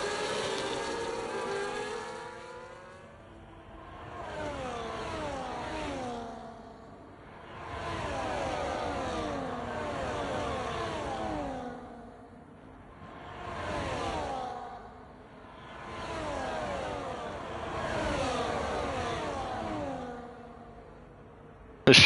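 Race cars in a tight DRS train in an F1 video game at Qatar, engines swelling and fading in repeated passes as one car after another whooshes by, with no voices.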